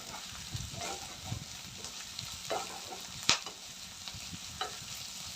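Ginger garlic paste and curry leaves sautéing in a pan for egg curry masala, a soft steady sizzle with intermittent scraping stirs and one sharper clack of the spatula, fairly quiet and close, no talking.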